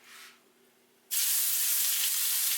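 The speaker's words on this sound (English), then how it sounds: "It's gonna sizzle a lot." Raw chicken meets a hot pan while roast chicken is being made, setting off a sudden loud, steady sizzle. It starts abruptly after a brief quieter hiss and keeps on close and continuous, with no talking.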